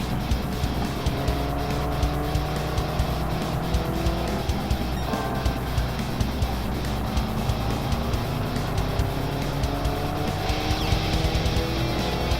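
A race car in a driving video game, engine droning steadily under repeated tire squeals and skids as it slides through corners, loud and continuous.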